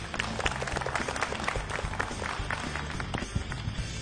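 Studio audience on a Burmese game show applauding a contestant, a dense, fast patter of many hands clapping that holds steady and close throughout.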